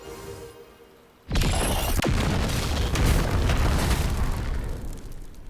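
A barrel blows up in the video game Sword of Convallaria: a sudden loud booming blast that rolls on with a long crackling, rumbling decay, with no talk over it.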